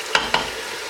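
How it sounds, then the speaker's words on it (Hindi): Ground onion hits hot oil in a pan, two quick stirring scrapes over a dense, even sizzle that fills the brief moment up close. "तेल गरम करेंगे, उसमें आप डालेंगे जो कि ग्राइंड की हुई प्याज है"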